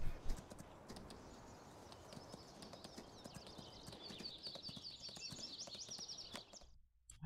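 Horses in the farming game Farming Simulator 19, soft steady hoof clip-clop with faint bird chirps over a quiet ambient bed, ending in a brief silence.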